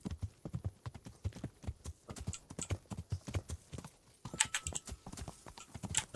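Horse hooves clip-clopping in the medieval game Kingdom Come: Deliverance, a steady rhythmic walking gait of close, distinct hoof strikes with a brief pause partway through.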